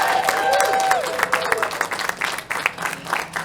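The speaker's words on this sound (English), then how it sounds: "So how about a nice big warm, tell us another one, round of applause" Live comedy-show audience applauds and whoops for a stand-up comedian being introduced, a burst of claps and cheers with a few shouts that thins into scattered clapping.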